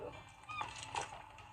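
A seagull in the video game Ghost in The Mirror gives two short, honking cries, faint against a soft background.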